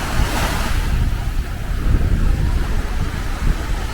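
Baltic Sea waves roll onto a winter beach in Tallinn, loud breaking surf up front mixed with gusting wind buffeting the microphone, continuous and with no one speaking.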